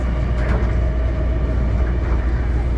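A local subway train in Hangzhou, China, heard from inside a carriage as a loud, steady low rumble with a constant mechanical drone and no distinct breaks.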